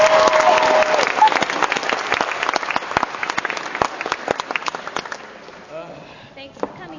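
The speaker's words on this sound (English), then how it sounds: "One more round of applause for these great guests." Audience applause for guests at the close of an animation panel at a convention, loud dense clapping with a few cheers that gradually thins and fades toward the end, with voices talking over it.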